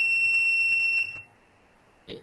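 An Arduino buzzer sounds a steady high-pitched electronic tone for about a second, then cuts off, followed by a brief faint click.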